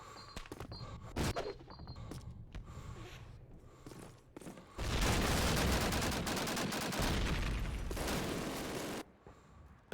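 Machine gun fire in Call of Duty: United Offensive, a sustained loud automatic burst lasting several seconds after scattered earlier shots and footsteps.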